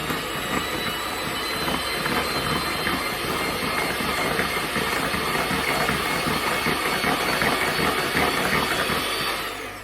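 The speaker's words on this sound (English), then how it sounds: "I'm just going to whisk for a minute, even if that. Turn it on." An electric mixer whisks a runny gluten-free banana loaf batter, a steady close motor whir and rattle that holds at an even level for about ten seconds before cutting off.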